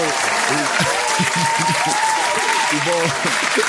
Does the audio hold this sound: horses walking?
no